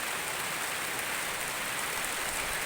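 Steady rain pours onto a coffee garden, a dense, even hiss of drops on leaves and ground that continues without break, moderately loud and close, with no voices.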